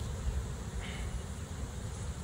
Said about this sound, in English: These bees are pissed off.